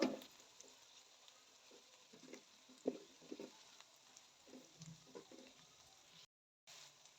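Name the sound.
ginger garlic paste frying in a pan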